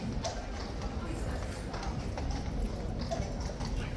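Hooves of King's Guard horses clip-clop steadily on hard ground at a ceremonial guard change, a busy outdoor crowd murmuring and talking over the clatter throughout.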